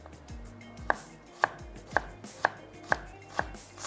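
Knife slicing onions on a cutting board, sharp evenly spaced chops about every half second, close and clear with no voices.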